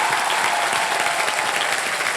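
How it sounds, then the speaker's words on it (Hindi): Loud, steady applause from a studio audience on the Hindi game show Wheel of Fortune, a dense wash of clapping that fills the short stretch without a break or any talk. "तो एक बार अजय जी के लिए जोरदार तालियां।"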